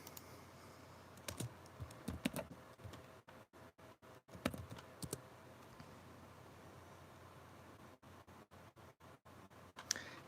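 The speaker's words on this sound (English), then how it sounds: "Just typing in something real quick" Quick bursts of clicking on a computer keyboard come in short irregular runs, faint and close against a quiet room hum, with pauses between the flurries.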